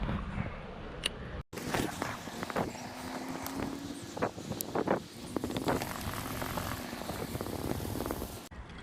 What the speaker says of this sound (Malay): Jadi cuaca agak berangin sekarang ni